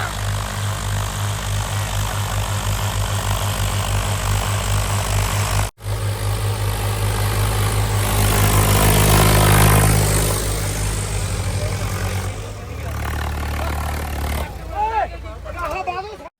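A Swaraj 855 tractor engine runs with a steady low throbbing rumble that swells midway, with a voice faintly heard near the end.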